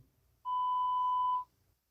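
A phone call that fails to connect gives one steady electronic beep lasting about a second, clean and alone against near silence.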